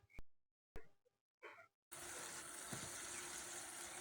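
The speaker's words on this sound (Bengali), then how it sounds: "কিছুটা পানি দিয়ে পেঁয়াজটা সেদ্ধ হতে দেব।" Water is poured into a pan of chopped onions with salt while cooking chicken bhuna, and a steady, close gushing splash follows a few brief knocks and clatters.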